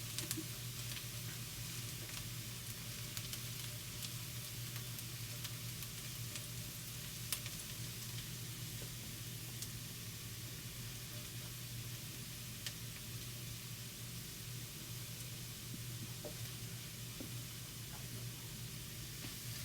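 Dry spices and minced beef fry in a pan with a steady, faint, hissing sizzle that runs the whole time, close up and low in level, with no one speaking.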